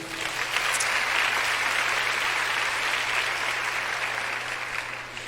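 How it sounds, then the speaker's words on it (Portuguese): Sustained congregational applause during a church sermon, a thick, even roar of many hands clapping at steady loudness for the whole stretch, with a faint low hum beneath. "Então dê um aplauso ao Senhor."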